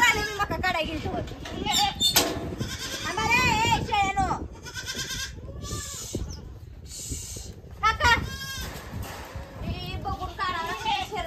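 Goats kept tied up on a farm, with kids among them, bleat repeatedly near the microphone in wavering calls, several overlapping, while people talk over and between the calls.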